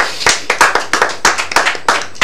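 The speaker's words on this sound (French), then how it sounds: "Merci d'applaudir une fois encore pour Floriane." An audience at a cultural event in Togo claps, a dozen or so sharp, uneven hand claps over a couple of seconds, close and fairly loud with no talking.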